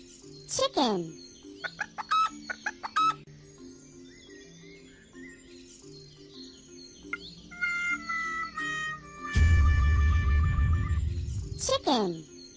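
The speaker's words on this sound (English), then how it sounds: "Chicken." A farm chicken clucks and chirps in short bursts over gentle background music, with a voice and a longer noisy squawk joining in toward the end.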